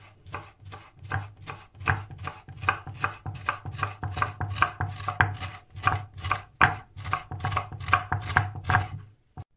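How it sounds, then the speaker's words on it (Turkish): Half an onion being finely minced with a knife on a board while making oven-baked turkey chops, a steady run of quick, close, crisp chopping strikes with no talking. "Evet iyice kıyalım soğanları."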